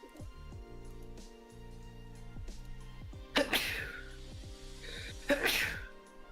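Two sharp sneezes during a quiet livestream, the first about midway and the second near the end, each a brief loud burst over a faint electronic hum and soft talk.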